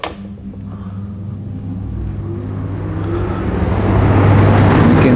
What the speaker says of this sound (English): Here we've got the fan, intake fan.